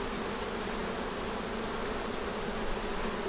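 Honey bees buzz around a hive in a beetle-affected yard, a dense continuous drone with a high whine, steady and close with no talk.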